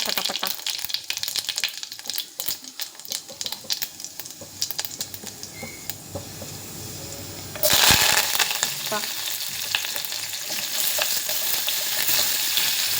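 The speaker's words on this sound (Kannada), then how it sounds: "ಸಾಸಿವೆ, ಜೀರಿಗೆ, ಚಟಪಟ" Mustard seeds and cumin crackle and sizzle in hot oil while tempering a North Karnataka-style dinner dish, with steady frying noise that jumps louder and brighter midway as more goes into the pan.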